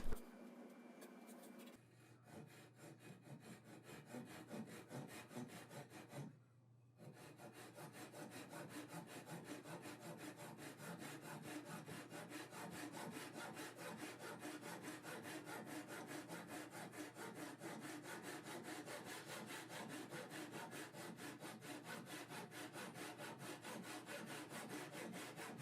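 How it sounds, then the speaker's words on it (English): A handsaw cuts walnut bench stretchers with rapid, even back-and-forth strokes heard close, pausing briefly once before continuing steadily to the end. "then I had to use a good old-fashioned handsaw"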